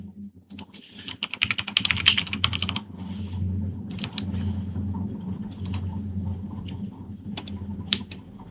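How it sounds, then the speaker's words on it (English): Typing on a computer keyboard: rapid, loud clattering keystrokes in a dense burst that thins into steadier, softer tapping over a constant low hum, with a few sharp isolated clicks near the end. "Annoying keyboard. Yeah, that's crazy annoying."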